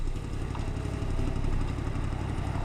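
Yamaha MT-10 motorcycle engine running close by with a low, rough throb during an AutoBlip downshift, brief and steady with no voice.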